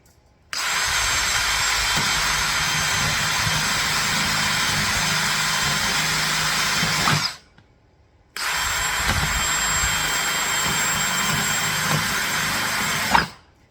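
A power drill boring holes in plastic storage containers whines steadily for about seven seconds, stops briefly, then runs again for several more seconds, loud and close.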